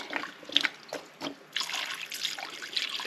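Water pours into a cooking pot in a home kitchen, splashing and trickling in uneven bursts, fairly close and moderately loud, with no talking.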